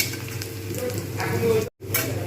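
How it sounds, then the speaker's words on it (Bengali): Sliced onions fry in hot oil in a pan, giving a close, steady sizzle with stirring until reddish-brown. The sound cuts out briefly near the end. "দেখা যাচ্ছে পেঁয়াজগুলো কিন্তু লাল করে ভাজা হয়ে গেছে"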